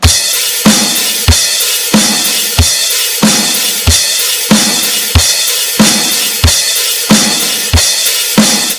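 A drum kit pattern for a rock song chorus repeated seven times in a steady, loud rhythm, each cycle opening with a punchy low hit under a continuous bright cymbal wash, played alone with no talking.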